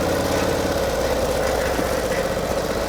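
A 1949 Harley-Davidson Panhead rumbles steadily in first gear while engine braking down a steep hill. The close, continuous low drone sounds loaded and slow.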